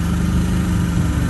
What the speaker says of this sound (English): Let's see what this lawnmower will do with 50 shot on it.